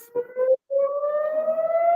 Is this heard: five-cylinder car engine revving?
no